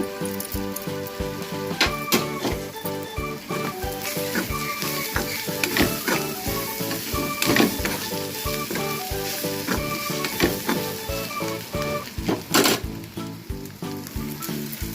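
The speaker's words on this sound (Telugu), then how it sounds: "చూసారా వేగిపోయిందండి ఇదిగో రుచికి సరిపడా కారం పొడి మసాలా వేసేస్తున్నాను" Eggplant and egg fry sizzling in a pan with chilli powder and masala, a steady close crackle broken by repeated scraping stirs.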